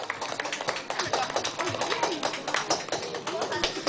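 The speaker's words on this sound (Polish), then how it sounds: "Wielkie brawa dla laureatów w konkursie fotograficznym" Scattered clapping from a small outdoor audience at a summer holiday welcome event, honoring photo contest winners; uneven, moderately loud claps mixed with background chatter and bird calls.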